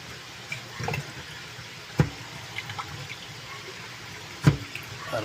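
Tap water running steadily while vegetables for sinigang na bangus are washed, a continuous close hiss with a couple of soft knocks, no talking.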